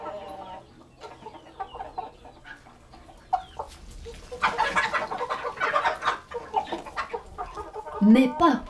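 Bresse chickens cluck and chatter close by, starting sparse and growing into a busier, louder run of overlapping calls with a sharp squawk near the end.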